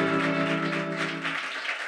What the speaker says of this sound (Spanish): ¡Aplauso bueno ahí!